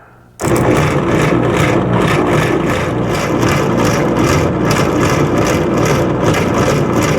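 An M151A1 military jeep engine catches after a near-silent pause and settles into a loud, steady running roar that holds without a break, close to the microphone.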